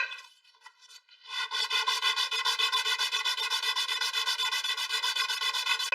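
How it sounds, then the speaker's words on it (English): A jumbo wooden crankbait is rubbed on 60-grit sandpaper wrapped around a wood block. After a few tentative scrapes comes a fast, even run of rasping back-and-forth strokes, close and clear. "I'm starting with about a 60 grit sandpaper on a block of wood here"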